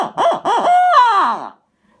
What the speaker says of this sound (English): I got a owl hooter. It is made by Flex Tone Game Calls.